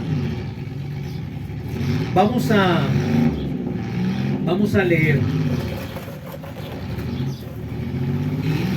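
Street traffic in a public road, with cars and motorcycles passing and engines revving loudly, runs beneath someone speaking Spanish close by.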